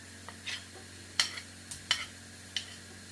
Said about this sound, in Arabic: وبعدين تحطوا بصلة مقطعة شرايح